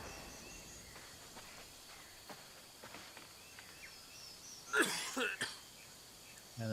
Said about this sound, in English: So I hear myself coughing, so I'm poisoned.